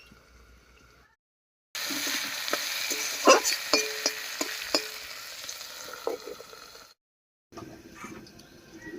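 Potatoes frying in a covered pan, seasoned with salt and turmeric, give a steady sizzle after a short silence. Scrapes and clinks of stirring run through it, and a fainter sizzle returns after a brief gap at the end.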